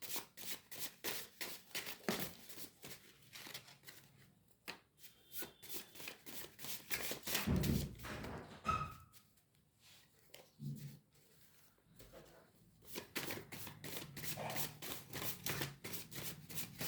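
A personal deck of tarot cards being shuffled by hand, quick riffling bursts in rapid rhythmic runs with a brief pause midway, close but fairly quiet, no voices.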